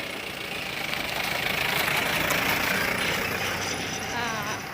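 A vehicle engine running close by, a steady continuous rumbling drone at even loudness throughout, with no clear speech over it.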